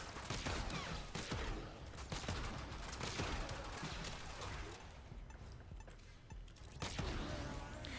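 Ferrox weapon firing in the Warframe video game, with rapid repeated sharp shots and bursts over several seconds, fairly dense and steady, with no talking.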